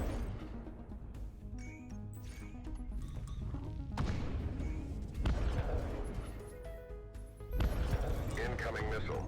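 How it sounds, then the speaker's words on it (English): An incoming missile attack in a space video game brings a busy mix of booms, thuds and crashing impacts that swell in waves over a low rumble, with voices speaking throughout. "Incoming missile."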